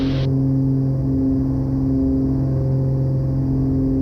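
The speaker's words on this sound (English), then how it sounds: "Engines are taking power." Twin engines of a Beechcraft Baron 58 drone at takeoff power on a hot Phoenix runway, a steady, loud, tonal engine hum heard from inside the cabin, unbroken and even throughout.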